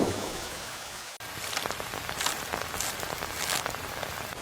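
Steady rain falling outdoors, a continuous hiss with scattered heavier splashes, moderately loud and close, briefly dipping at one point before resuming.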